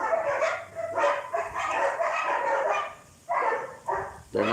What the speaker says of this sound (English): I hope the dogs aren't too loud.